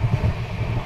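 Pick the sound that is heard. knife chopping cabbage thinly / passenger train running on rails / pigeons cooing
passenger train running on rails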